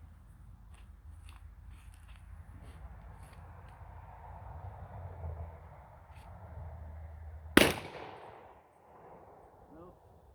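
A single sharp gunshot from a Taurus revolver with a 4-inch barrel cracks outdoors after several seconds of quiet background rumble, then echoes and fades.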